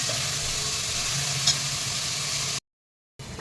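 Onions frying in a pan until golden brown for mutton, a steady loud sizzle that cuts out briefly into silence near the end and then resumes.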